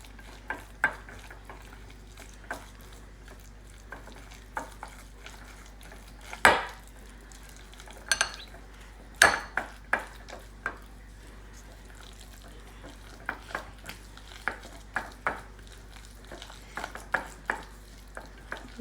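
Tuna salad being mixed with black pepper and salt makes quiet, scattered utensil scrapes and light clinks against a bowl, with a few louder knocks over a low, hushed background.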